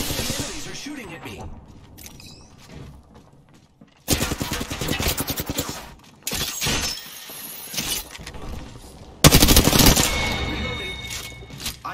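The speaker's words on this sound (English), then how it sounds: "Enemies are shooting at me." Gunfire rattles in the video game Apex Legends, with bursts of rapid automatic shots and sharp cracks between quieter gaps. Game voice lines and a player's talk run underneath.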